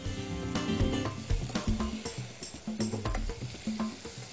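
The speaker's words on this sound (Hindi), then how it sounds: "चिकन को आप कोई 5 से 6 मिनट इसमें फ्राई करेंगे।" Chicken fries in a pan of olive oil and butter, a steady sizzle broken by repeated scraping and clattering stirs at close range, with no voices.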